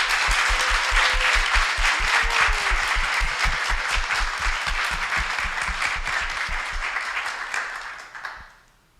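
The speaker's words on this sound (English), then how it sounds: "So please join me in giving these folks a large round of applause" Large audience applauding presenters at a graduate research-talk competition final, a dense, steady wash of many hands clapping at close range that holds for about eight seconds before quickly dying away.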